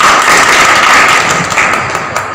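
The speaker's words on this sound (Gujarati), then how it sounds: "સૌ આપણે હોદ્દેદાર મિત્રો, કાર્યકર્તા મિત્રો, તાળીઓથી વધાવશો બધાને" Party office-bearers and workers at a political meeting applaud together, a brief burst of close, loud clapping that fades slightly over a couple of seconds.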